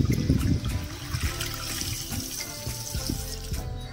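Water gushes and splashes continuously from a homemade pump driven by a 555 DC motor. The flow is fairly loud and close, with uneven sloshing throughout and no talking.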